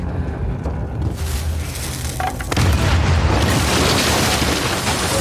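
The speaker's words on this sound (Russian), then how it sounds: "Мы из пушки сейчас пальнём в тебя." A heavy cannon boom followed by a sustained, roaring explosion rumble in Uncharted 4, loud and broadband, swelling midway and holding steady to the end with no voices.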